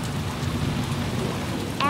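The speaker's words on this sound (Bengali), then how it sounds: "কিছুটা যাওয়ার পরেই আরো জোরে বৃষ্টি শুরু হয়।" Heavy rain pours in a dense, steady hiss throughout, close and loud, and a voice starts speaking right at the end.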